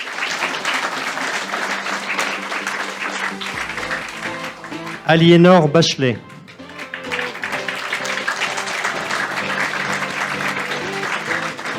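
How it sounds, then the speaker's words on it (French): Audience applause breaks out at an evening campaign meeting for a local election, steady broadband clapping that runs through most of the stretch while a voice keeps speaking over it. "Un petit applaudissement, s'il vous plaît."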